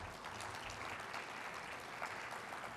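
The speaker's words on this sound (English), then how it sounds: "Give yourselves a round of applause." Moderate applause from association members at a State of the Association presentation, even clapping sustained throughout at a somewhat distant, quiet level.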